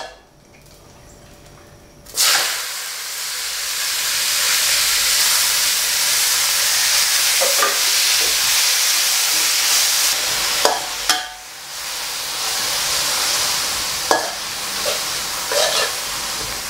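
Bitter gourd stir-frying in cooking oil for a bitter gourd and egg dish: after a quiet start, a loud, steady close-up sizzle erupts and holds, with occasional scraping stirs and brief sharp crackles.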